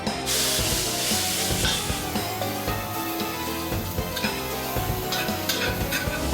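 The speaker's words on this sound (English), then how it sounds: "Hot pan. The bacon that we colored." Bacon sizzles loudly in a hot pan, a steady close crackle and hiss broken by the scrape and clatter of stirring, with no talking.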